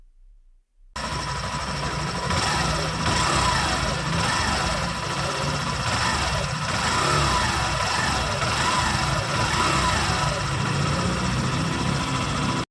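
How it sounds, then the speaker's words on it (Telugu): Hero Glamour 125 motorcycle with a chrome-finished heat shield on its exhaust, idling steadily close by; a low, even engine rumble starts after a brief quiet moment and continues with no talk. "ఇప్పుడు ఎగ్జాస్ట్ సౌండ్ అయితే వినండి."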